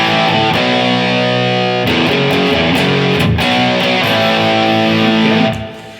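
Distorted electric guitar plays a riff, a steady loud run of chugging power-chord figures with short breaks, ending on a sustained chord that fades out.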